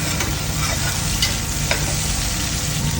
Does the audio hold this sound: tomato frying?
yes